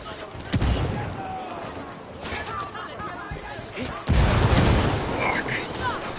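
Mortar blasts and gunfire roar through a Ghost Recon battle, with heavy booms landing near the start and again past the middle over continuous rumbling combat noise, while voices shout beneath the fighting.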